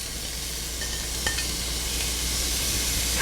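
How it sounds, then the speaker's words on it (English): Onions dropped into shimmering hot olive oil in a pan give a steady, moderately loud sizzling hiss that holds evenly throughout, with no talking. "So I add my olive oil to the pan first, and once it's shimmering, I add my onions."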